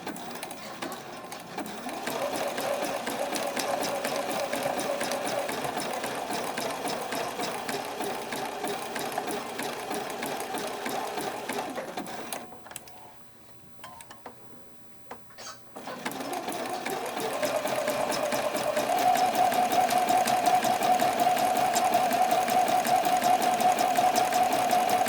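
A sewing machine runs slowly around the lace edges of a bralette, its steady whirring motor humming close and even for most of the clip, with one pause of a few seconds before the stitching resumes.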